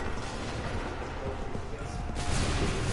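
Musket volley gunfire in Assassin's Creed 3, a dense, sustained rumble of many shots blending into one loud roar with crackle, voices shouting under it.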